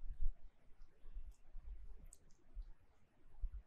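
Computer mouse clicks while working in a programming editor, a handful of faint, sparse clicks scattered over quiet room noise.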